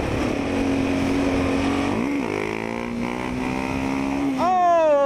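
A Suzuki GSX-R 750 K6 sport motorcycle engine holding a steady drone during a wheelie, then pitching up sharply in a loud rising rev near the end, heard close over wind.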